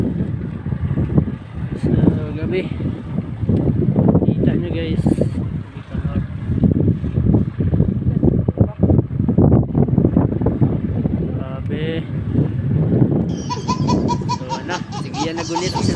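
Strong wind buffets the microphone outdoors, a loud steady rushing roar throughout, with people talking over it.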